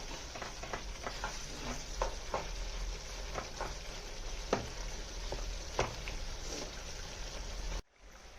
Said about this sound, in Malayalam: കറിവേപ്പിലയും ചേർത്ത് ഇനിയിപ്പോൾ നല്ലോണം ഒന്നുകൂടി മിക്സ് ചെയ്യണം